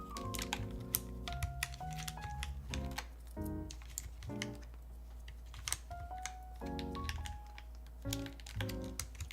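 Rapid, close typing on a mechanical keyboard fitted with a new keycap set, with dense clacky keystrokes in uneven bursts alongside a faint background tone.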